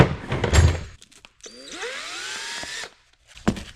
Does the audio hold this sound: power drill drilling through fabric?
yes